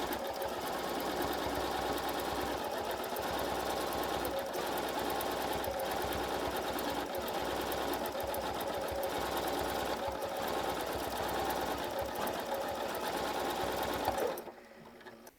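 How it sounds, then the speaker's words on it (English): A Janome M8 sewing machine runs a fast, steady stitch throughout free-motion quilting with its AcuStitch regulator, then stops abruptly near the end. No voices are heard. "And that's free motion quilting using the AcuStitch regulator."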